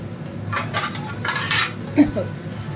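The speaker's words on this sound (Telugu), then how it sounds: "ఇప్పుడు మూత పెట్టేసుకుందాం, త్వరగా మగ్గిపోతుంది" A metal lid set onto a cooking pot of greens and dal in a home kitchen, a few light clinks and scrapes of metal on metal ending in one sharper clank, close by.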